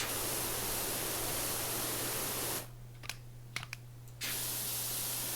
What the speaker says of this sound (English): Now, the wider of an arc it sprays, the less pressure there is.